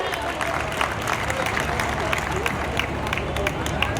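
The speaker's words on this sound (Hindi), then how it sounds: "आप सभी जोरदार तालियां मंच तक पहुंचाएं।" Steady applause from a large audience at a public government event in Mirzapur, dense clapping heard close and continuous throughout with crowd murmur beneath.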